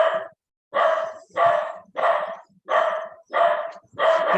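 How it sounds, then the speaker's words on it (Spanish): Small dog barking next door during a home lesson, seven loud, close, evenly spaced barks in a steady rhythm, alone without talk. "Uy, este perrito siempre hace bulla."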